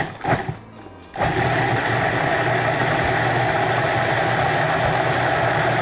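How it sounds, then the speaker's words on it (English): A food processor blending homemade steak sauce ingredients starts after a short clatter and then runs as a loud, steady motor whir to the end. "We'll put our processor top on and give it a ride."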